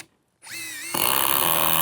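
An impact driver set to its second setting whirs up after a short silence, then climbs into a louder, steady high-pitched power-tool drone near the microphone with no talk.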